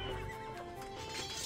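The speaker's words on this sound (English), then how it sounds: "Alright, better grab all of my horses. Attack horses." Horses neigh and whinny in the Age of Empires II strategy game, several overlapping calls with clip-clop hoofbeats, fairly close and steady throughout the short stretch with no talking.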